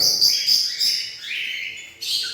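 Small birds chirp in quick, high, busy bursts indoors, several calling at once nearby with short pauses between flurries.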